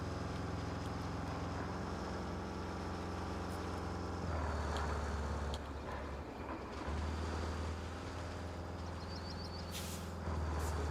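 A heavy dump truck engine in a video game, Roadcraft, drones steadily with a low rumble, shifting pitch as it revs and pulls away, alongside occasional hissing air bursts.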